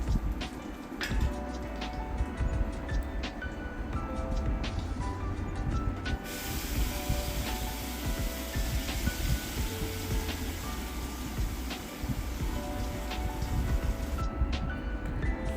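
Ground paste poured into a hot pan of oil while making South Indian tomato chutney, a steady loud sizzle and crackle with a sudden hissing burst partway through, close up.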